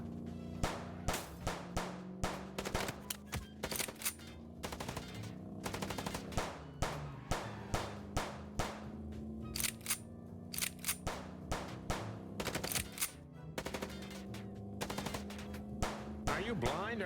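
Rapid bursts of automatic gunfire and sharp single shots crack repeatedly through a car chase in the video game Chicken Police, over a steady engine drone with occasional voices.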